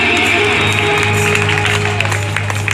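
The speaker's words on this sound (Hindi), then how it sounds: "जोरदार तालियां बजा के सम्मान करें" Loud, dense applause from a crowd at a religious stage performance about Shiva–Parvati's wedding and the Narasimha avatar, with a steady sustained musical drone underneath throughout.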